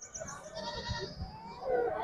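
Lambs bleat at the Chitradurga sheep market, faint, high-pitched calls over low crowd murmur and brief voices in the background.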